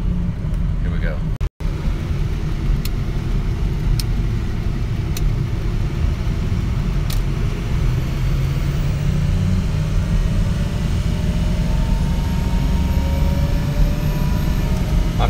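A KSU vehicle's engine at roughly half throttle with a shaky transmission, producing a steady, loud mechanical drone with a continuous low rumble.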